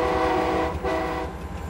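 A historic restored railway locomotive in Luxembourg rumbles steadily close by, its loud, continuous engine and rolling noise holding with a tonal hum and a brief dip midway.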